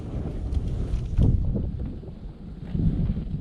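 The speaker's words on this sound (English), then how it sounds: "the wind is no joke today. It's blowing pretty hard." Strong outdoor wind gusts buffet the microphone, a steady low roaring rumble that rises and falls over a few seconds, with no voices.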